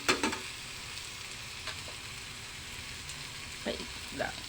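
Scrambled egg sizzles in a pan with tomatoes and bitter melon, a steady frying hiss broken by a few soft clinks of stirring, close and fairly quiet.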